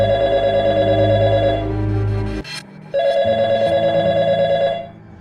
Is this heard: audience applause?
no